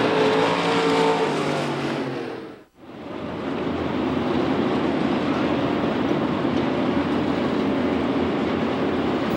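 IMCA Modified race cars roar past on the dirt oval at Knoxville Raceway, a loud engine pass that drops briefly before a sustained pack of engines rumbles on.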